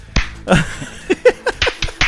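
A string of sharp, close hand claps, about eight in two seconds, comes at uneven intervals during a podcast recording, like a sync clap gone wrong.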